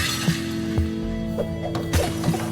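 Glass shatters repeatedly in the obstacle-smashing game Smash Hit, loud crashes and tinkling breaks every half second or so over a droning music backdrop.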